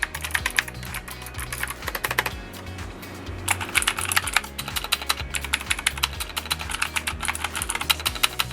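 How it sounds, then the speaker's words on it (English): Mechanical switches on an ABKO Hacker K660 ARC keyboard click rapidly and loudly during continuous typing, with a brief quieter stretch in the middle before fast, dense keystrokes resume. "Here is a comparison between the Kyle optical switch and the Otemi mechanical switch in terms of the clicking sound"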